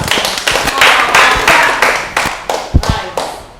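Hands clapping in a rhythmic series of sharp, close claps, about three per second, loud and dry, with faint voices in the background.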